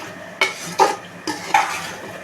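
A spoon stirs vegetable pulao with mint and coriander in a pot, making four distinct scraping, clinking strokes against the metal. The strokes are close and moderately loud, with no talking.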